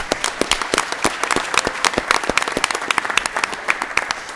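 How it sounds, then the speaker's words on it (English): Audience applause for a speaker at a school board of education meeting: a smaller crowd clapping, with individual sharp claps clearly distinct in a lively, uneven patter, close and fairly loud. "can we give her a round of applause?"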